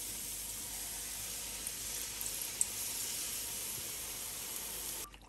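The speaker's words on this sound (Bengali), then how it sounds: "তেলটা গরম হয়ে গেছে, আমি জিলাপিগুলো দিয়ে দিব" Jalebi batter spirals frying in hot oil give a steady, close, loud sizzle that holds evenly for about five seconds, with a few small pops, before cutting off abruptly.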